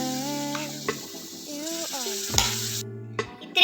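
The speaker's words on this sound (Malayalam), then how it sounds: "ഇനി നമ്മളിത് പാനിലേക്കിട്ട് ഒന്നും കൂടെ ഒന്ന് കുറുക്കിയെടുക്കാം." Tomato sauce reduces in a pan with a soft, steady sizzle and bubbling, broken by a few light clinks and stirring sounds, heard close with no talk.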